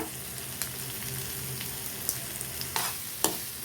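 Green chillies sauté in a pan with salt for coriander chutney, giving a low, steady sizzle with a few sharp scraping clicks from stirring, fairly quiet and with no voices.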